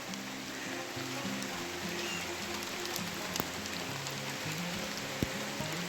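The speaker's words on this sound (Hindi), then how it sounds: "और साथ साथ में बारिश भी लगी हुई है तकड़े वाली" Heavy rain patters down steadily with a constant hiss, a few sharper drops standing out, and no voices.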